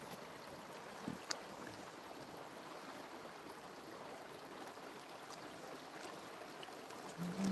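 Creek water flows steadily outdoors, a soft, even rushing wash with a couple of faint clicks and a brief low thump near the end.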